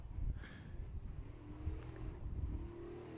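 Rally cars at full throttle during the 2024 Pines Enduro race in a pine forest, their engines roaring low and fairly distant, rising and falling as they approach.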